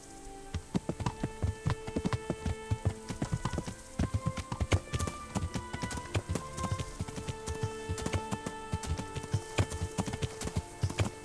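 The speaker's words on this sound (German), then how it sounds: "Ich glaube, man kann den ganzen Tag galoppieren." A horse galloping in the video game Kingdom Come: Deliverance, with steady, rhythmic clip-clop hoofbeats running close and loud throughout, no talking.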